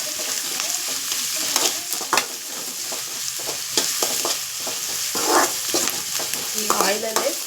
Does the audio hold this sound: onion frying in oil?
yes